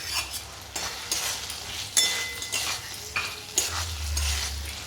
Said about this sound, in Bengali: এবার এর ভিতরে আমি ভেজে রাখা আলুগুলোকে মিশিয়ে দেব